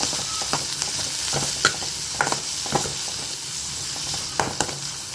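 Green chillies sautéing in a pan with onion give a steady, quiet sizzle, broken by several sharp scraping knocks from a stirring spoon spread across the stretch.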